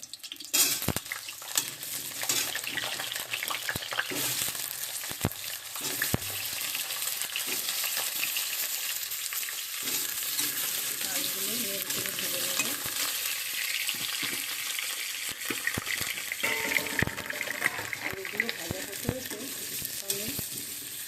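Soybean chunks frying in hot oil make a steady, dense sizzle and crackle that lasts throughout, with occasional utensil clinks and stirring scrapes nearby.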